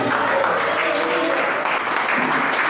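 A congregation at an evangelical church service claps loudly and steadily in a dense, continuous roar of hands, with voices mixed in beneath the applause.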